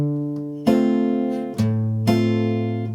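A bossa nova rhythm on acoustic guitar, thumbed bass notes alternating with pinched three-string chords, several sustained ringing strikes in a relaxed syncopated Latin pattern, played close and alone.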